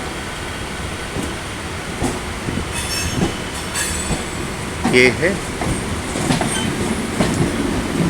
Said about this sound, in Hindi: इस साइड भी एक साउथ ईस्टर्न रेलवे का ईस्टर्न का लोकल है।